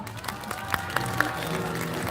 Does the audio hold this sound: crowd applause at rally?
yes